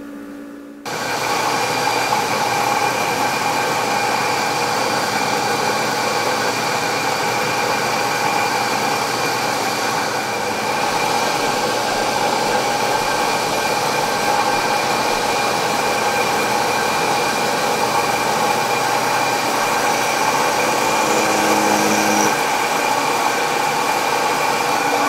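A lathe cuts metal stock with flood coolant pouring over the work, giving a steady, loud machine whir and hiss that holds evenly throughout, with no talking.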